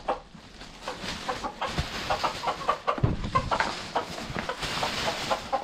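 Backyard chickens clucking in a village coop in early spring, a busy flock making repeated short clucks and murmurs close by, with a few louder calls standing out.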